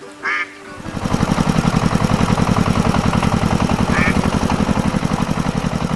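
An animated red tractor's engine chugs in a steady, rapid idling rhythm, close and prominent, with a couple of short duck quacks popping up over it.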